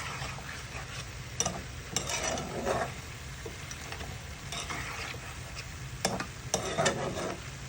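Pumpkin pieces with green chilli, turmeric and salt in oil tempered with panch phoron, a soft steady sizzle in a pan with intermittent scrapes and clacks of a spoon tossing them.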